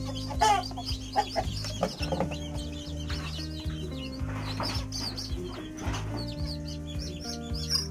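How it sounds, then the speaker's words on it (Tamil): Young chicks dropped into a brooder peep and chirp busily, a dense overlapping chorus of high calls, close and steady, over a low droning background hum. "கோழி குஞ்சுகள் உள்ள விழ ஸோ அதை எப்படி ரியாக்ட் பண்ணுறதுன்னு நீங்களே பாருங்கள்"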